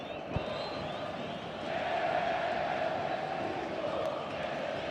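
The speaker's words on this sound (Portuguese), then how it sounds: "Aumenta o volume da torcida gremista no Olímpico" Grêmio supporters roar in the Olímpico stadium during a match against Flamengo, a dense, steady crowd wash that swells louder midway through and holds, with no clear voice standing out.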